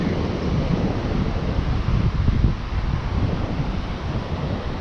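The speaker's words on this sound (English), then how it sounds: "look at this beautiful ocean." Ocean surf at a sandy beach around early morning, a steady broadband wash of waves mixed with wind buffeting the microphone, loud and continuous with a slight swell midway and no voices.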